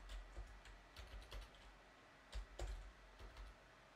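Steady keystrokes typing Arduino serial code on a computer keyboard, a quick run of light clicks with a few louder taps, close and quiet with no voice over it.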